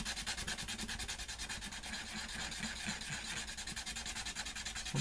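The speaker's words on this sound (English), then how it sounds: "I mean, sand more than I want to." Steady rubbing rasp of sandpaper on a cut craft piece for an altered house, a continuous close scratchy texture with a faint regular back-and-forth pulse, no voices.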